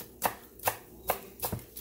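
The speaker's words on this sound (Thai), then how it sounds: "มาซอยหอมป้อม" A knife slices shallots on a cutting board in four evenly spaced, crisp taps, close by and fairly quiet, with no talking.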